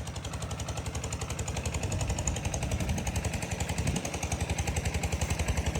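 Well-drilling rig in rural Thailand bores a groundwater well, giving a loud, steady mechanical pounding with a fast, regular rhythm, close by and continuous, with no talk over it.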